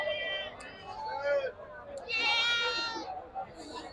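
Black Bengal goats at a goat market bleat loudly and repeatedly, their calls overlapping in close succession amid general livestock noise.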